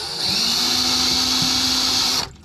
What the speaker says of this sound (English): stick the screw gun in there, pull the screws out.